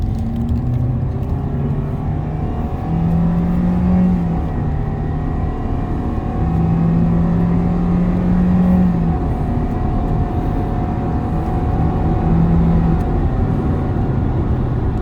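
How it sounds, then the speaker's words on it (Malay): A Toyota Veloz engine roars steadily, rising and falling in pitch as the car revs and pulls, loud and continuous with a deep rumbling drone and no voices. "So korang dengar ngauman kereta."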